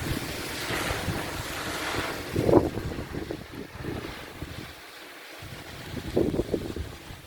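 Strong hurricane wind gusts around small wind turbines, including a little four-bladed one, producing rough, buffeting roars against the microphone that surge and ease in uneven waves, with a brief lull midway and no speech.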